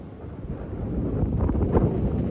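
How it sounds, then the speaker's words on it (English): Wind blowing across a sandy beach by a bay, a steady rushing buffet against the microphone that swells slightly louder toward the end, with no voices. "Nice and windy today."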